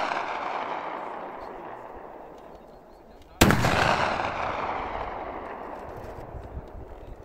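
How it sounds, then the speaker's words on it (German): A single sharp, loud gunshot cracks out at an outdoor shooting training range, ringing off with a long decaying echo after a stretch of quieter ambient noise. "der fünfte oder sechste Schuss"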